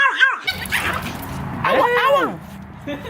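A dog whines and yips in rising, wavering tones, breaking into short howl-like cries amid nearby people talking and cooing at it.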